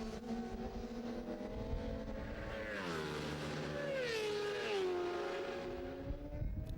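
High-displacement racing motorcycles at the Estoril circuit during a 2012 national championship race, engines whining and rising in pitch as they approach and sweep past, loud and sustained with overlapping machines.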